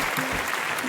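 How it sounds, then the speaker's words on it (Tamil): Audience applause at a film audio launch, a brief dense burst of clapping from a large crowd. "நம்ம ஹீரோயின் ஸ்ரீ லீலா அவர்களை ஒரு மிகப்பெரிய கைத்தட்டலுடன் வருக என்று வரவேற்கிறோம்."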